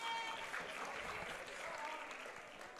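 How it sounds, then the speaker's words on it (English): An audience at a powerlifting meet applauds and cheers for a junior women's lifter, a steady roar of clapping and crowd noise beneath an announcer's talk. "Lots of hype from the crowd."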